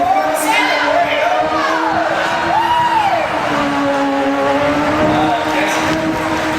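Remote-controlled stunt car driving at a show, the motor whining and rising and falling in pitch continuously, loud and close beneath an announcer's voice.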